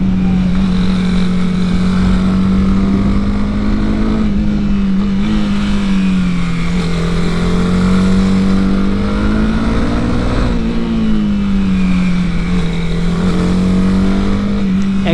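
Honda CB 300R motorcycle exhaust droning steadily while riding, its pitch rising and falling gently through corners, loud and continuous with no talking.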